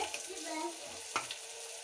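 Steady close sizzling of spices frying in hot oil, with a quick sharp crackle partway through.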